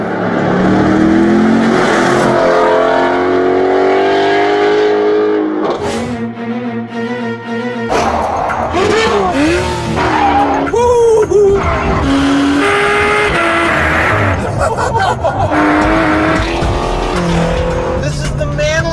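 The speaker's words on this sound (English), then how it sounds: "505 horsepower Camaro Z28 and a 526 horsepower Mustang GT350R." A 505-horsepower 2015 Chevrolet Camaro Z28 and a 526-horsepower 2016 Ford Mustang Shelby GT350R roar loudly nearby, engines revving hard while tires squeal in long shrieks, with brief lulls between bursts.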